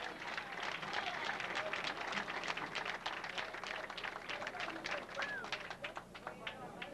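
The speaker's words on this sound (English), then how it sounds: "You can hear the crowd in the background with their applause." Crowd applause at a 1991 candlepin bowling championship: steady, dense clapping spread across the whole stretch, moderately loud and somewhat distant, with no voices over it.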